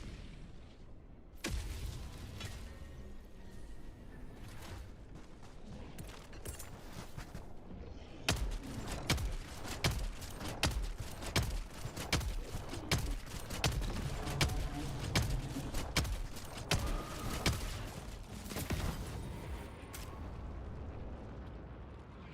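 Rapid, repeated gunfire from a weapon in Helldivers 2 during combat against harvesters, with loud bursts and booming impacts running densely through most of the stretch after a brief quieter opening.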